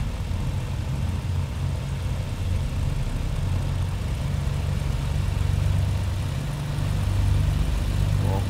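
A Britten-Norman Islander in Microsoft Flight Simulator runs its twin piston engines up, a steady loud low drone with a throbbing hum that swells slightly toward the end, with no voices over it.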